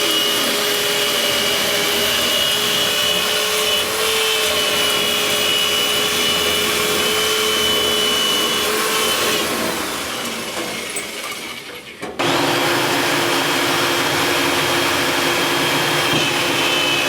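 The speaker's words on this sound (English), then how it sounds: "The central vacuum provides suction for the system." A central vacuum pulling suction through home air ducts during duct cleaning, a loud steady roaring whine with tonal hum; it dips and falters briefly near the end, then resumes abruptly at full strength.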